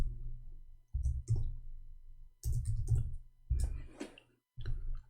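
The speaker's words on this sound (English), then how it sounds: "I'm typing in English again." Bursts of clicking on a computer keyboard, close and fairly loud, coming in irregular clusters of keystrokes with short pauses between them.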